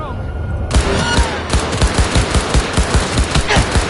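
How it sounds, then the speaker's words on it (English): Rapid automatic gunfire from the video game Cyberpunk 2077, loud and close, with dense bursts of shots pounding in a steady rhythm for several seconds after a brief quieter start. "Heard shots."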